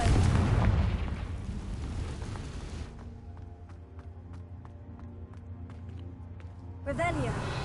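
A Confringo blasting spell in a video game lands with a loud booming explosion that rumbles and fades, then a second burst erupts near the end.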